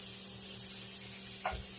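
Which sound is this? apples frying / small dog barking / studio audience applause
apples frying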